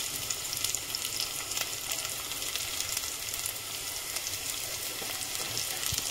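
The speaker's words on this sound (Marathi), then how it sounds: "आता मी कांदा टाकणार आहे" Chopped onion fries in a pan for a home-style chickpea curry, giving a steady, close hiss and crackle of sizzling oil that continues evenly throughout, with no voices.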